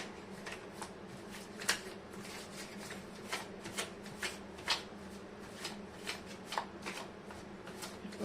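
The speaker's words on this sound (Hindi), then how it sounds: "कर लेती हूँ कार्ड की शफलिंग।" Tarot cards are shuffled by hand close up, a continuous soft riffling and sliding with frequent sharper slaps and flicks at irregular intervals over a quiet room hum.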